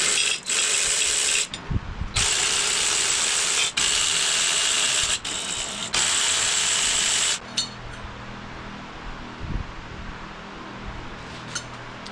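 A tool spins off 10 mm bolts on a Mazda FC RX-7 during coolant system disassembly, loud close whirring bursts in several long runs separated by brief stops, then quieter clicking handling noises.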